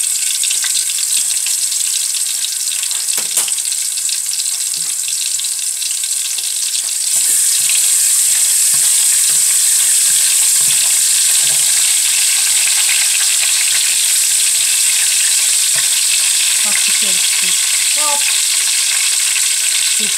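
Ingredients for chiktay aranso fry hard in a hot pot, a loud, steady, close sizzle with a bright hiss that swells louder partway through, with faint clinks and stirring scrapes underneath.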